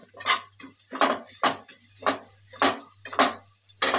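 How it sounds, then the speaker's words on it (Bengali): A spatula knocks and scrapes against a frying pan in about seven evenly spaced strokes while garlic and nigella seeds are stirred, with near-silence between the clacks. "এবার রসুন কালো জিরেটা ভালো করে নাড়াচাড়া করে একটু ভেজে নেব খানিকক্ষণ"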